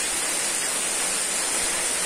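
Small kliwir fish frying in a pan in a home kitchen, a steady, dense, close sizzling hiss that holds evenly throughout with no voices.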